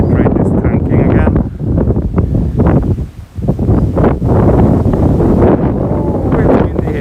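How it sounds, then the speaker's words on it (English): Strong gusts of wind in Futako Tamagawa, Tokyo, buffet the microphone with a loud, continuous rumble, while a person talks over it. "Oh, it's windy here."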